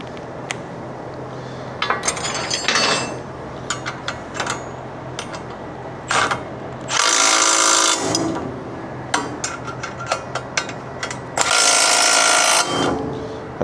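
A socket ratchet tightens bolts on a gooseneck trailer with bursts of quick, close clicking and metallic clatter, broken by two loud stretches of continuous power-tool-like buzzing.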